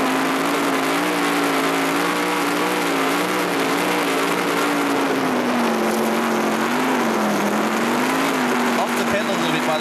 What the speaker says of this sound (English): Let's just tune in and listen to this motor.